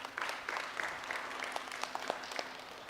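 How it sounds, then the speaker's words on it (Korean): A church congregation applauds together in a steady wash of clapping that fills the room, moderately loud and sustained, with a few sharper individual claps standing out. "박수 한번 드릴까요?"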